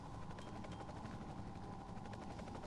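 Helicopter in the video game Marc Ecko's Getting Up, a steady dense rotor and engine roar holding at a constant level with no talk.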